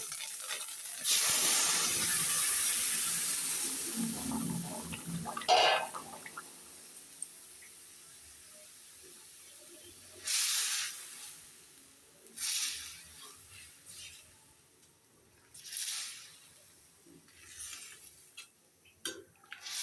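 Loud sizzling and hissing as potatoes and flat beans go into a hot pan of oil for a tengra fish curry, a strong burst easing into softer intermittent crackles and spits.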